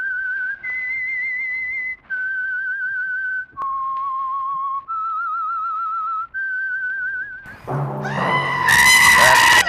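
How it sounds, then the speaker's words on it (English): A lone whistler carries a slow, eerie tune with wavering held notes, the signal theme of the Signal Oil radio program The Whistler, clear and unaccompanied before a loud orchestral blare bursts in at the end. "That whistle is your signal for the Signal Oil program, The Whistler"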